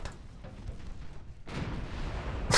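Naval gunfire in a warship strategy game set in Italy's 1891-1892 dreadnought era: repeated low booming salvos, a dense rumbling barrage with a louder burst near the end, no talk.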